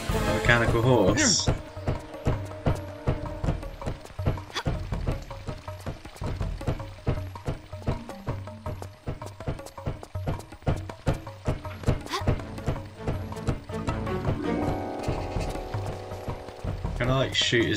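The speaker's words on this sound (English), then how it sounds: "A mechanical horse." A mechanical horse clanks in Tomb Raider IV's Alexandria level, a run of sharp metallic thunks and clattering knocks in an irregular rhythm, with game ambience and brief rising mechanical whirs at the start and end.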